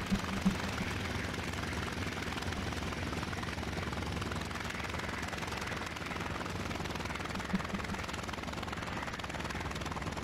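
A WWII fighter's piston engine in the IL-2 Sturmovik flight sim drones steadily through its landing approach, a dense, unbroken roar with a couple of faint knocks early on.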